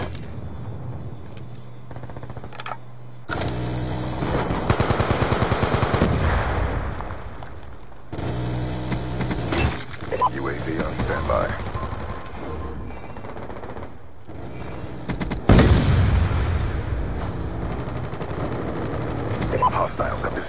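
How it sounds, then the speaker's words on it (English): Heavy explosions and rattling gunfire from a Hellstorm missile strike in a hardcore team deathmatch shooter game, loud bursts rolling through the match with a voice speaking over the combat. "Hellstorm missile inbound."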